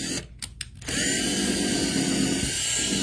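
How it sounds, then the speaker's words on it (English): A power drill boring a hole whirs steadily at close range after a few brief stuttering bursts, its motor holding a constant high buzz. "So I'm going to go ahead and drill a hole."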